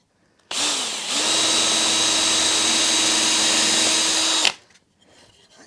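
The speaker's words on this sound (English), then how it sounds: "Now I'll put it in place and drill the holes for it" Close, loud power drill boring holes into a model railroad backdrop: a brief start, a short pause, then several seconds of steady whine before it stops, leaving faint handling noise.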